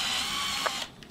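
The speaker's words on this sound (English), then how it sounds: "drill our hole" Power drill boring a hole into a remote control, a close whirring grind that runs steadily and then cuts off near the end, followed by a few faint clicks.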